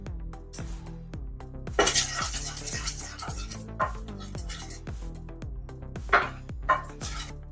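Hardened sugar syrup for mixed dry fruit chikki being tapped in a metal pan, giving a string of close, clinking metallic knocks with brief bursts of scraping between them.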